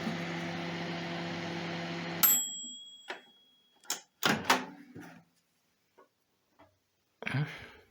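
A repaired microwave oven, previously blowing its fuse when the door opened, hums steadily for a couple of seconds and then stops, followed by scattered sharp clicks and knocks from the door and handling.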